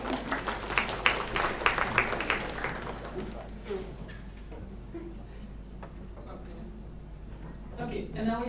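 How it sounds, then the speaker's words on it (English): A small group of about seventeen people at a national assembly meeting claps briefly, a short burst of hand claps that fades to quiet room sound with some talk. "Clap our hands."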